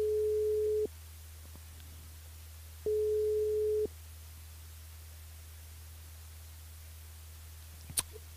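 Telephone call tone heard while a radio host calls a listener back: two steady one-second beeps separated by a pause over a constant line hum, followed by a brief click near the end.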